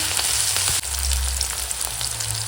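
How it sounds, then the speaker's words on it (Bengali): Onion and green chilli fry in hot oil in a Bengali home kitchen, a steady close crackling sizzle that runs unbroken, with a brief stir or clink partway through and no voices. "এখন পেঁয়াজ আর কাঁচা লঙ্কাটা আগে তেলের উপর দিয়ে দেবো দিয়ে ভেজে নেবো"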